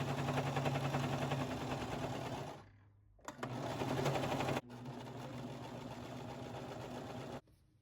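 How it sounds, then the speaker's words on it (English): A sewing machine stitches fabric with pink thread for a costume, a fast buzzing needle rhythm in close bursts: a long run, a brief pause, then two more runs before stopping. "Now, just have to sew it shut."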